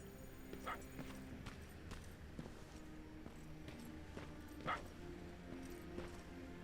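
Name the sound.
dog barking nearby in video game Terminator Resistance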